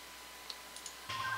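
A computer mouse right-clicking during Cube World gameplay: a few soft, isolated clicks in a quiet stretch, followed by a louder burst of game sound.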